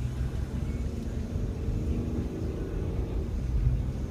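Interior of a 2011 Ford F-150 XL SuperCrew 4WD pickup with twin-turbo engine on the move, a steady low engine and road rumble throughout, no speech.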